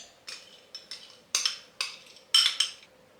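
Butter and brown sugar worked together in a bowl with a utensil, a series of about eight clinking, scraping strokes against the bowl, growing louder toward the end.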